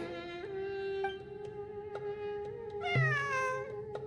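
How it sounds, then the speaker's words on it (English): A cat meows repeatedly in Genshin Impact, several drawn-out tonal cries close by, with a louder, rising meow near the end over a quiet ambient background. "It really is a cat."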